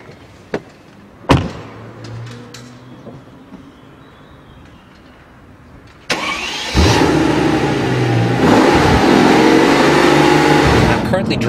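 A Mercedes-AMG engine fires up after a couple of sharp clicks, then settles into a loud, steady growl that swells as the car accelerates, heard up close with some talk.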